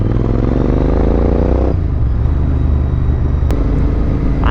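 Loud droning engine of a motorbike on the move, steady rumble with shifting pitch as it changes speed, plus wind buffeting.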